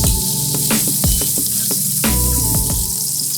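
Sausage frying in olive oil until crisp, for a gorgonzola cream pasta: a loud, close, continuous sizzle with scattered pops and crackles throughout.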